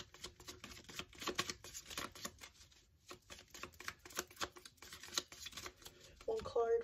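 Tarot cards are shuffled by hand in quick riffling, flicking bursts that come and go, close and soft, with a final card set down near the end.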